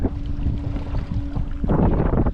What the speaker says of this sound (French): Ils annoncent pas mal de vent. Ça souffle un peu là.